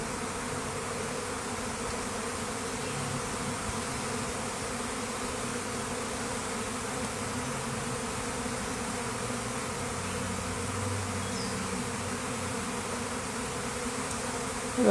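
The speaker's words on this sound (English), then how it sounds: "I knew there was at least two swarms." A swarm of bees gathers at a box, filling the air with a dense, constant buzzing hum, close and steady from start to finish, with no talking.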